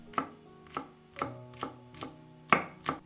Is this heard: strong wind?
no